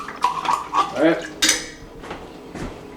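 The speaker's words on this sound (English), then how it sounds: "Sometimes you got to use a spoon to really get it" A metal spoon scrapes tomato paste out of a can, a few short clinking, rasping scrapes close by, then a quieter tap or two.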